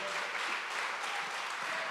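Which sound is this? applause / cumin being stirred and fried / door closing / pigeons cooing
applause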